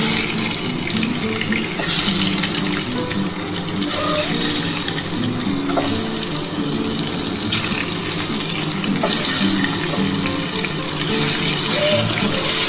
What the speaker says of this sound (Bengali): তেলটা গরম হয়ে গেছে, আমি ডিমগুলো একটু ভেজে নিচ্ছি।